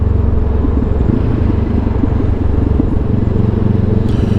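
A Benelli TRK 702 motorcycle under way, its engine giving a loud, steady low rumble throughout with wind buffeting over it and no break in the drone.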